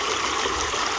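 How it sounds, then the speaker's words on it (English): Water rushing steadily through a gold prospecting sluice outdoors, a close, loud, continuous splashing wash with no pauses. "We got plenty of water flow."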